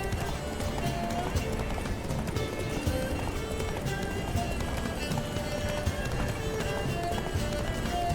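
Roach, Geralt's horse in The Witcher 3: Blood and Wine, gallops at a steady clip-clop under a dense, continuous bed of game music and ambience, with hoofbeats mixed in rather than standing out alone.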